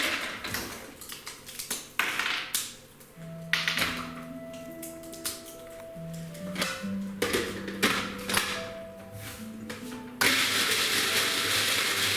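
A kitchen blender grinds pieces of hazelnut caramel in loud pulsed bursts, the chunks rattling and crunching against the blades, then settles into a steady continuous whir, with music playing underneath.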